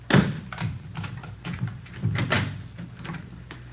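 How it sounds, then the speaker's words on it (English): Close indoor clatter of a door being unlocked and opened: a sharp initial knock, then a series of irregular clicks, rattles and scrapes of latch and handle, with no speech. "Let me get the door open."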